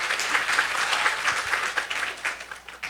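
An audience at a Saturday religious sabha gathering breaks into continuous applause, dense overlapping clapping filling the hall at a steady loud level from start to finish.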